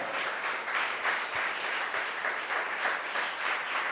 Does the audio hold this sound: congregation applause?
yes